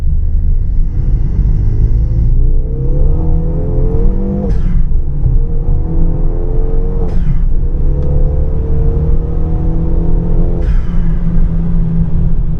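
A Renault Megane RS accelerates hard on a test drive after a radiator swap, its engine note rising through the gears with loud, steady rumble and several brief dips at gear changes.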